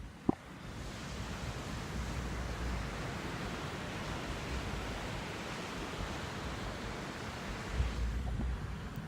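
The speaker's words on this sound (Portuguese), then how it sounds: "deixa eu mostrar o mar pra vocês. Hoje o mar tá calmíssimo" Calm sea waves wash in a steady, soft, broadband rush with no distinct breaking crashes. One sharp tap sounds at the very start.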